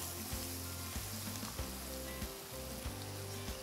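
Mustard seeds crackle and curry leaves sizzle in hot oil for a cauliflower pepper fry, a faint, dense patter of frying heard close with a few light knocks from the pan, no talking.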